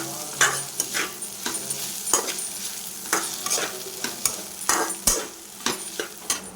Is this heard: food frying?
yes